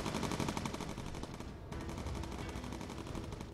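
A bomber's turret machine gun fires in the video game Bomber Crew, rapid continuous bursts with a brief pause midway, loud and dense, with no talking.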